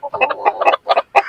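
Village chickens cluck and cry out together in short loud bursts as one hen is carried off, sharp overlapping calls close by with brief gaps between.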